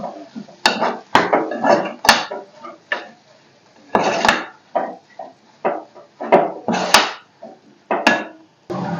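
A spoon scrapes and clatters against a pan while boiled potato is stirred into dosa masala, making repeated close, uneven knocks and scrapes in quick bursts, with short pauses between strokes.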